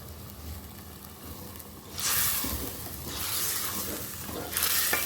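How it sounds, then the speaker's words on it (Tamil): About three quarters of a kilo of Qurbani meat is stirred into hot fried masala in a pan. Soft background sizzle swells into loud hissing bursts as the meat goes in, with no talking. "இதை நான் இப்போ இந்த மசாலா வதங்கின மசாலாக்குள்ளே விட்டு மிக்ஸ் பண்ணி கொள்ளுவேன்."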